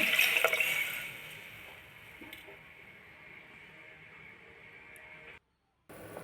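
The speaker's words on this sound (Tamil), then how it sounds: "அரிசிக்கு தேவையான அளவு தண்ணி ஊற்றிக்கோங்க" Water pours steadily and splashes into a cooking pot for rice, loudest at first then settling into a softer trickle before cutting off near the end.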